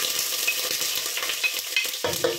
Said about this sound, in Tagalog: Yan, ilagay na natin ang ating sibuyas.